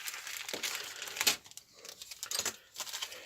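Crinkling and rustling of a plastic bag in short, uneven bursts, close by and fairly quiet, with brief pauses between handlings.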